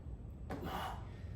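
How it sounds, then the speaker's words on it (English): A single deep, audible inhale through the nose and mouth while holding a plank, sharp at the start, then tapering off after about half a second. "Deep breath in."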